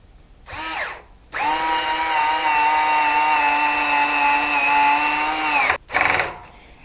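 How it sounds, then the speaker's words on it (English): Hitachi DB3DL2 screw gun on its low setting, clutch at 13, driving a screw with a Torx bit: two short whirring starts, then one loud sustained motor whine of about four seconds, followed by a quick final burst. "I'm going to go ahead and insert a screw in that same hole"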